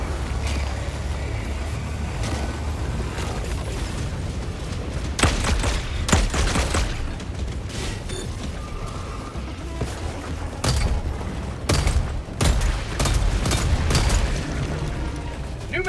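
Gunfire and explosive booms from the video game Helldivers 2, with bursts of shots and heavy impacts recurring through a dense, continuous battle din that stays loud throughout.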